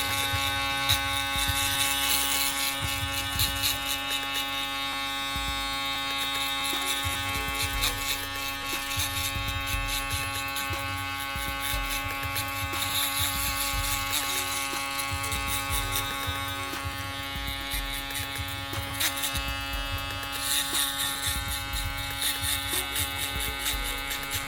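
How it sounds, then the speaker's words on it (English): Instinct electric shaver cutting through a client's hard stubble in a barbershop, a steady close buzzing motor hum with gritty cutting texture that holds continuously throughout. "I'm definitely feeling this shaver."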